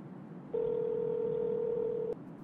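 A single steady telephone tone sounds for about one and a half seconds, clear and fairly close over a low background hiss, then cuts off with a click.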